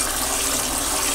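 Cool tap water runs steadily into a sink over rice being rinsed by hand, a continuous close hiss and splash with no talking.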